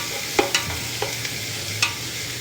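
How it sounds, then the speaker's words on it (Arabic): Ghee, onions and spices frying in a pot, with a steady sizzle under a few sharp clinks and scrapes of stirring, fairly close and with no talking. "انزل السمنة اول شي واحمسها مع البصل والبهارات"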